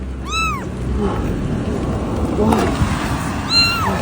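A stray kitten meows a few times in short rising cries amid heavy rain, with a person exclaiming nearby.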